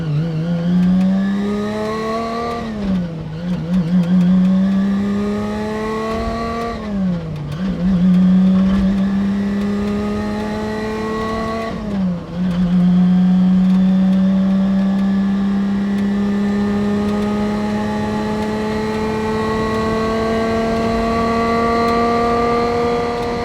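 Lancia Stratos engine on an open road accelerating hard through the gears, a loud, close, rising engine note broken by short dips at each of several gear changes, climbing steadily to a sustained high pitch.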